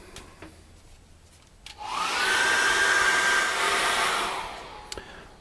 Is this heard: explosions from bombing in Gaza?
no